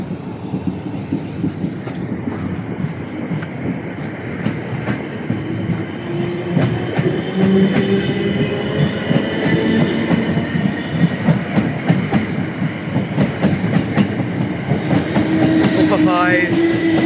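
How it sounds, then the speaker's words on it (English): A South Western Railway class 455 electric train runs through Clapham Junction with a steady rumble and rhythmic wheel clatter, fairly close and loud, and a rising squeal of wheels toward the end. "Here goes these class 455s to London Waterloo."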